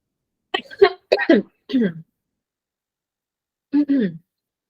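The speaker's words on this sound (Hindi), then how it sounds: "बोल बोल के खांसी आ गई" A man coughs several times in quick bursts during a math lecture, two clusters close together, then a pause and one more double cough, near and clear.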